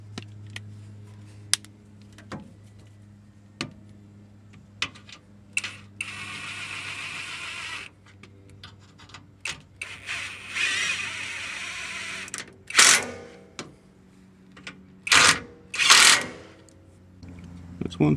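An impact wrench tightening truck sway bar bushing bolts sounds in several short, loud bursts of rapid rattling hammering, separated by quieter clicks and handling noises, with a voice speaking intermittently.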